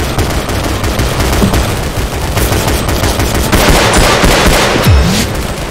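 Heavy gunfire in Double Action: Boogaloo, loud rapid bursts of automatic shots crackling continuously and close, with dense overlapping volleys throughout.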